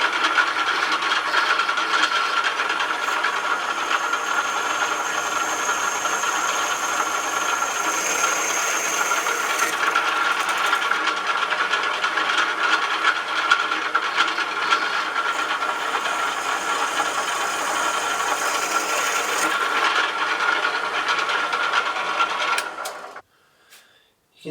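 An Elliot pillar drill bores with an 8mm twist drill, giving a steady, close grinding whir that runs unbroken for about 23 seconds before stopping abruptly.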